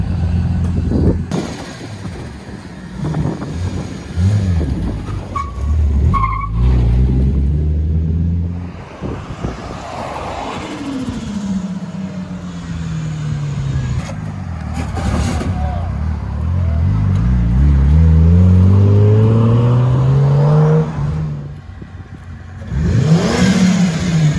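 A turbocharged Toyota JZX90 Mark II engine with an HKS 2835 turbo revs hard and close, its pitch sweeping up and down through several loud pulls, with a voice briefly heard in between.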